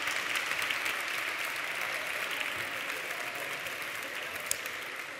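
Sustained applause from a sizable crowd at a university graduation ceremony, a dense, even wash of clapping that holds steady throughout.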